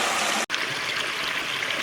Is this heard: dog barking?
no